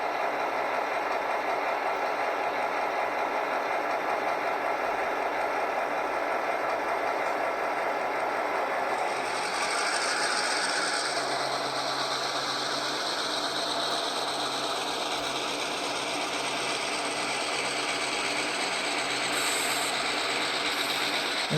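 HO scale Rapido GP38 model locomotive running on track, a continuous close motor whir and mechanical gear hum with a faint ticking texture, steady for the whole stretch, shifting slightly in tone about halfway.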